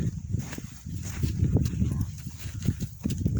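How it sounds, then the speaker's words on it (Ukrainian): Steady hoof clip-clop of a Novooleksandrivsky draft horse mare walking, with low thuds and some background rumble throughout. "Новоолександрійський ваговоз"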